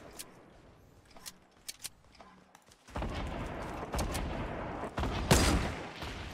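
Fortnite crossfire: faint scattered shots at first, then a heavy, continuous burst of nearby gunfire with loud cracks that peaks near the end; one brief spoken word at the start.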